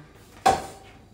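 A single clatter of metal dishes and utensils being handled while washing up in a home kitchen, close and fairly loud, fading quickly into quiet background.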